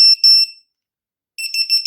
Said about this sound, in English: it'll put out a different, like, pickup alarm